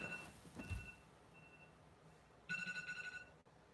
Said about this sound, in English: your phone